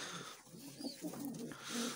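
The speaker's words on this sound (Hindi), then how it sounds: "ये कबूतर हैं ये देखें लड़ना शुरू हो गया" Soft, low pigeon coos repeating close by, a gentle throaty murmuring with no talking.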